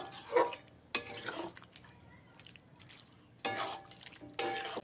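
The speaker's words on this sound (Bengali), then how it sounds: "জলটা দিয়ে খুব ভালো করে একবারও মিশিয়ে নেব" Water is stirred into a mixed vegetable semi-gravy in a pot, making wet swishing bursts with drips and faint clinks between quieter pauses. The sounds are fairly soft and there is no speech.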